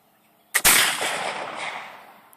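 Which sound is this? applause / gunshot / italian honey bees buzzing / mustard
gunshot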